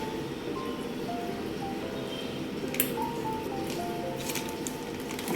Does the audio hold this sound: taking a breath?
no